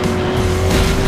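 A 2010 GT-500 racing car's engine roars in the Driver San Francisco video game, a loud, sustained high-revving drone held steady for about a second.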